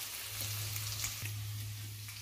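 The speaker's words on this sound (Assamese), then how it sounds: "ইফালে আলু ভাজি কৰি আছোঁ" Potatoes frying in a pan make a steady, even sizzle throughout, with a low continuous hum underneath.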